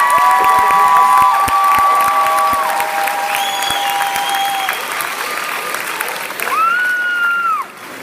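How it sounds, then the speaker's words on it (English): Audience applause for a middle school chorus at a spring fine arts showcase, a dense sustained clapping with some cheering that carries through, while a few tones sound over it. "So let's give Mr. Grant and the chorus a clap."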